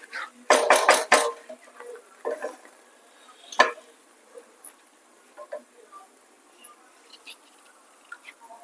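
Dry macaroni pasta tipped into a pan of simmering red sauce gravy, a quick burst of clattering hard pieces on metal, followed by scattered softer clinks and taps as the pan settles.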